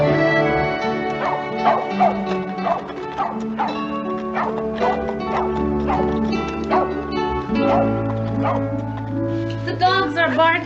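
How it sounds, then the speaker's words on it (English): Several dogs bark and yip in quick bursts through a dense music score, with a low sustained tone underneath, the barks standing out repeatedly over about ten seconds. "The dogs are barking the strange people's bark."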